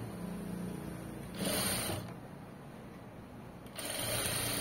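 A sewing machine stitches cloth in two short, quick bursts of fast rhythmic whirring, each lasting under a second, with quiet pauses between them.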